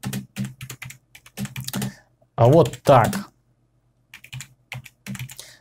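Quick bursts of typing on a computer keyboard, close and crisp, come in irregular clusters of keystrokes with short pauses, while someone speaks briefly between them.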